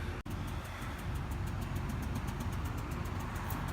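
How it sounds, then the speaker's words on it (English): A truck engine with a rod knock idles steadily, its low rumble running continuously and fairly close, with a faint repeating tick riding over the drone and a brief dropout near the start. "got a rod knock in the truck."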